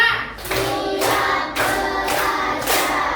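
A room of fifth-grade pupils claps in unison on a count, producing a series of about five loud, regularly spaced group claps, each a bright burst with a short tail.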